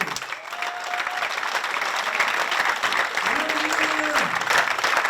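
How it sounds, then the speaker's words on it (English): Spectators applaud bowler Jason Belmonte at a bowling masters final, a sustained crowd clapping at moderate volume with some voices and an announcer-like tone faintly underneath. "A big hand of applause for Jason Belmonte."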